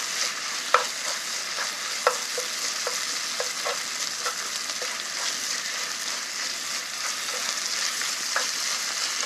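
Beef stir-frying in cooking oil for yukgaejang, a steady close sizzle broken by repeated spatula scrapes and taps against the pan at an irregular rhythm, with no talk.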